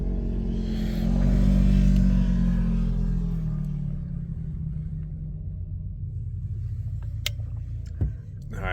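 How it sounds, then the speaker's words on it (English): Steady low rumble of road traffic rolling past a parked Subaru Forester used for car camping, swelling loudly as a vehicle passes early on and then easing into a continuous nearby drone with a brief thump near the end. "I keep pausing because there's just so much traffic."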